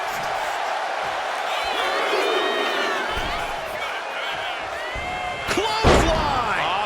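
Sharp kick impacts in the WWE 2K25 wrestling video game, a couple of loud slams and thuds near the end over a steady roaring arena crowd, with a commentator's voice talking throughout.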